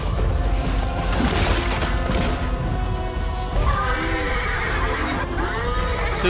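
A horse whinnies in the medieval combat game Chivalry 2, its neighs rising over continuous hoof clatter and the chaotic noise of battle throughout.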